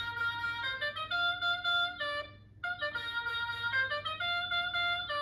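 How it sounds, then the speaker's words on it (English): A toy car horn honks in bright, tinny electronic tones, repeating in quick succession with a brief pause between. "it's meant to honk 3 times in a row"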